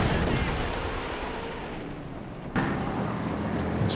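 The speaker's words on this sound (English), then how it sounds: "Barrage coming through." A rocket artillery barrage in Company of Heroes 2 rumbles as a dense, continuous roar of impacts, with a sharper burst of explosions about two-thirds through.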